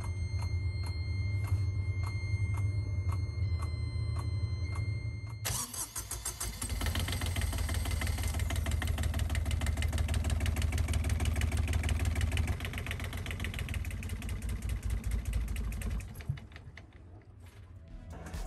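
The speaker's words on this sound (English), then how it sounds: "So let's run the engine now and check it again." A Catalina 34 sailboat's inboard engine starts with a brief crank and settles into a steady, close running drone after an oil change, with a faint clicking pattern before it catches and the engine shutting down near the end.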